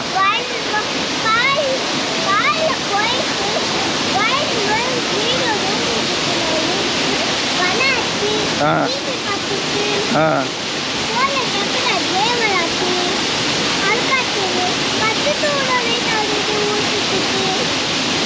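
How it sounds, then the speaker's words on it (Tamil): Agasthiyar waterfall at Papanasam, a loud, constant roar of rushing, splashing water close by, with people's voices and chatter faintly mixed into the steady wash. "இந்த ஃபால்ஸ் எப்படி இருக்கு"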